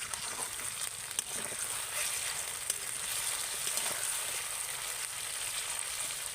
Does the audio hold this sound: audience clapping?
no